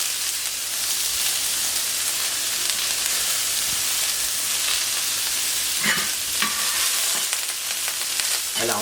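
Grilled vegetables sizzle on a moderately hot plancha set to 200 degrees, a steady close frying hiss with occasional crackles and light scraping throughout.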